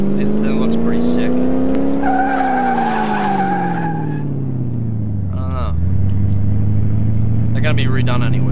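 A Chevrolet Impala in the racing game Car Mechanic Simulator 2018 revs and speeds up with a loud, steady engine drone whose pitch rises, falls and climbs again, with tire squeal and someone talking over it.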